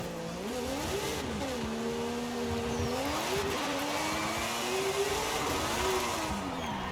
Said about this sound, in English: it's a 3-rotor again, so it's gonna sound absolutely amazing